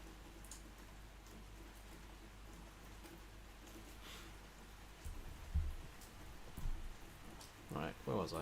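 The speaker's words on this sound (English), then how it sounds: "just hit with this massive downpour." Heavy rain downpour hisses steadily throughout, a constant wash of sound, with a few louder bumps and faint murmurs toward the end.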